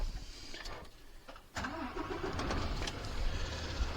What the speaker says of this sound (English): start the vehicle engine on up